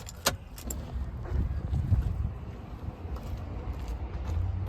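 A truck key at the ignition of a dead truck: a brief metallic jingle of keys near the start, followed by low, faint rumbling handling noise with no speech.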